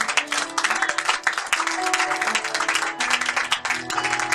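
A church congregation claps and cheers loudly and continuously, dense applause with raised voices filling the whole stretch, close and steady throughout.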